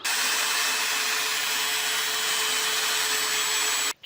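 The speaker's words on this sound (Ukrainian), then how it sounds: "тепер ріжемо болгаркою" A steady, loud whine of an angle grinder cutting through plastic sewer pipe, running continuously for a few seconds before stopping abruptly.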